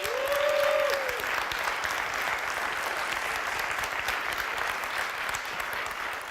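Steady audience applause at a summit innovation slam, a dense, even patter of clapping that holds at a constant moderate level for several seconds, with a brief tone near the start.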